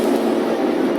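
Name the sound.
train passing in a railway safety PSA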